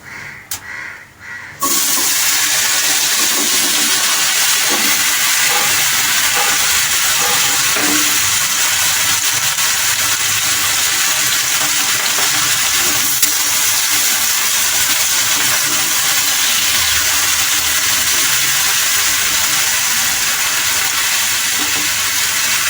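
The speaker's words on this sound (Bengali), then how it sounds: "সর্ষেটা ফাটতে শুরু করে দিয়েছি। এবার তার মধ্যে আমি এই টুকরোগুলো দিয়ে দেব।" Pumpkin pieces go into hot oil with popping mustard seeds, setting off a loud, steady sizzle that holds unbroken for over twenty seconds after a few quieter clinks and a brief pause at the start.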